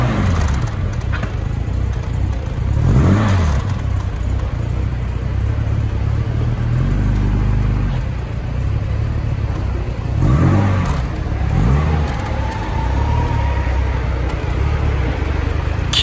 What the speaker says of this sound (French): On va avoir droit au départ de la DB5.